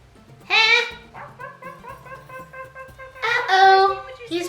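A dog barks and yips in excited bursts at the start and again near the end, with softer whimpering cries between them. The sounds are close and loud, with no talk.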